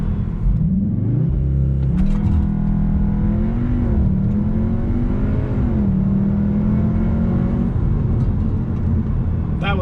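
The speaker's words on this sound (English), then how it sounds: "Spun the tires a little bit there." A car launches hard from a standstill, its engine revving up through a rising drone with a brief spell of tire spin, loud and close throughout.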